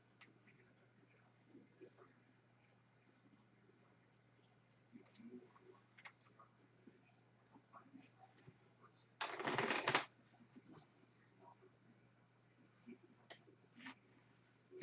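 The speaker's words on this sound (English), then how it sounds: "So now I have to shuffle my deck." A deck of playing cards shuffled during a tabletop card game, one brief riffling burst standing out against a quiet room with faint handling noises around it.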